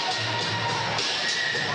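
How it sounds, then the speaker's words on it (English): Basketball crowd cheering and shouting in an arena at Eventfinda Stadium on a Friday night, Auckland Tuatara v Taranaki Airs NBL game, a dense steady roar of many voices with scattered louder shouts. "Good crowd in on a Friday night."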